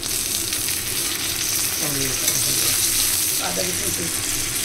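Tomatoes dropped into spices frying in a pan give a steady, loud sizzle with faint stirring clatter underneath, holding continuously from start to finish without voices.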